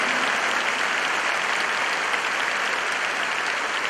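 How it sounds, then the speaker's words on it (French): A church congregation applauds during a French-language Bible study service, with steady, dense clapping that stays loud and even from start to finish and no talk over it. "Un grand applaudissement pour ce Dieu vivant, car il nous bénit avec son pouvoir."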